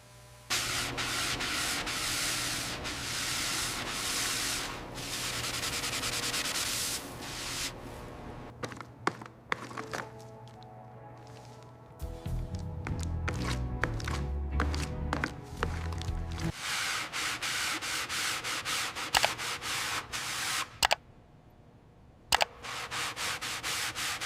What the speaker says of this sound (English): Every panel sanded smooth, perfect gaps.